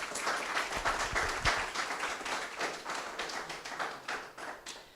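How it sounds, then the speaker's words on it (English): An audience applauds a panel after a presentation, a modest crowd clapping at moderate distance, with a few louder individual claps and taps standing out early before the clapping thins. "I think they deserve a round of applause,"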